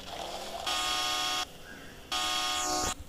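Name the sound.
classic car horn on modified Toyota Fortuner in video game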